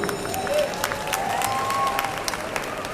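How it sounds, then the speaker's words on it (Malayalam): A crowd applauds at a film teaser launch event, with dense, sustained clapping throughout, some scattered cheering and a few whistle-like tones, and faint voices underneath. "ഇത് ക്ലാപ്പ് വരും."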